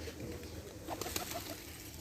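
Racer pigeons cooing softly in a loft, faint low coos under a steady background hum.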